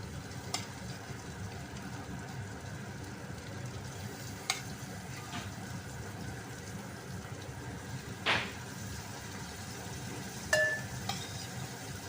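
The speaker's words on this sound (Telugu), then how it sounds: "ఇది అల్లం వెల్లుల్లిపాయ పేస్ట్ ఈ విధంగా ఫ్రై అవుతుంది, పచ్చివాసన పోయేంతవరకు ఫ్రెండ్స్" Ginger garlic paste frying with chicken in a pan, a quiet continuous sizzle broken by a few sharp clinks and scrapes of stirring.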